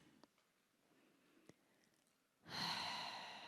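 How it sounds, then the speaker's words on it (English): A person breathing in and out slowly with a hand resting on the chest, faint at first with a couple of small clicks, then a long, breathy exhale that swells close and fairly loud. "Just inhale and exhale."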